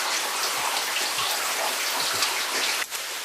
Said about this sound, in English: Rain, rain, rain. Is this miserable enough for you?